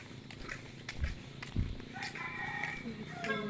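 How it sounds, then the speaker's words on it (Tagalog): A chick chirping in thin, high peeps toward the end, among other faint poultry sounds and footsteps outdoors, with people talking nearby. "Sisiw."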